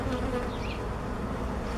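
Honeybees buzz steadily at an open hive box during a queen-rearing inspection, a close, continuous droning hum with no voices.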